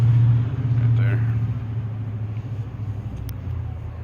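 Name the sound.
passing road traffic at rush hour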